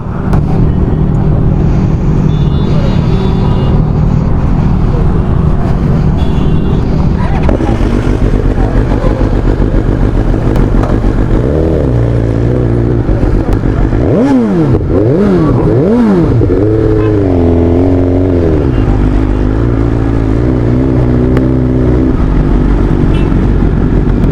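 A new BMW S1000RR M Sport motorcycle engine being run in idles roughly early on, then several rising and falling revs in the middle, running steadily throughout, close and loud.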